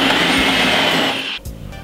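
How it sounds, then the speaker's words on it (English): A loud, steady motor whir of a blender running as it blends fresh oranges into juice, then it cuts off abruptly near the end. "Then we're going to be blending this roughly about 3 to 4 minutes"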